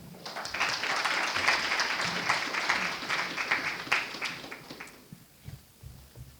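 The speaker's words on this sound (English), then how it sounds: "Let's applaud again." An audience at a Kenyan moot court competition breaks into sustained applause, a dense roomful of clapping that holds steady for several seconds before thinning out into a few scattered claps.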